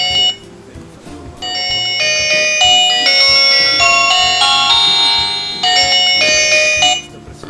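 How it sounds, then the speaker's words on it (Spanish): A loud electronic alarm ringtone from a NO.1 G3 smartwatch plays a bright repeating chime melody, rising in layered notes and cycling several times before stopping. "Tienes varios timbres de alarma, suenan bastante fuerte."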